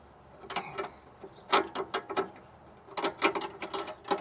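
Socket wrench ratchets in short clicking bursts while loosening the nut on a car's sway bar link, close and fairly quiet, with brief pauses between strokes.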